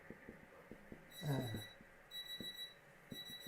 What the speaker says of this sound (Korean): 삐삐삐 빨리 이제 설교 끝내라고 지금.